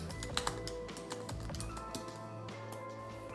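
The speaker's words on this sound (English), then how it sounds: "So I'm gonna pull up Safari and type in CRICUT.com setup." Light, quick keystrokes on a computer keyboard as a web address is typed, an uneven patter of soft clicks, close but faint against a low background hum.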